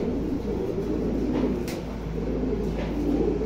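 Netherlands red checker pigeons coo softly in a loft, a low steady murmur of repeated coos over constant background hum with no talking.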